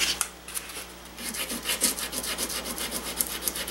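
Abrasive paper rubbed back and forth over steel gun barrel tenons, a steady series of close, dry scratching strokes in an irregular rhythm, heard alone.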